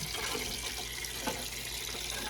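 Fresh water runs steadily from a tap into a bowl in a pottery studio during wheel cleanup, a constant close splashing stream without any talk.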